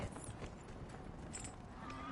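Horse hooves in the video game Dragon Age: Inquisition clip-clop in a steady, quick rhythm over an outdoor ambience, moderately near and soft, with a faint whinny.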